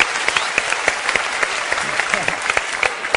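A TV studio audience on a Turkish talk show breaks into brisk applause, a dense continuous patter of clapping with sharper individual claps standing out, loud and close, with some speech mixed in.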